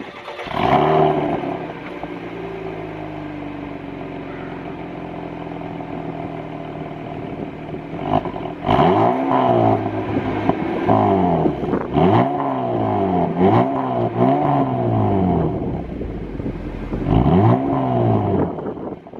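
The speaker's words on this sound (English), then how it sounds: "I'll insert a clip here of the startup and give it a few revs so you can hear what it sounds like." A 2017 Chevrolet Camaro 2LT RS, a non-V8 model with a dual-mode exhaust, starts up and idles steadily, then gets about five sharp, loud revs close by in the second half, with no talking.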